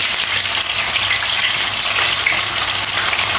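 Steady, loud sizzling and crackling of fish frying in hot oil, continuous throughout with no voices.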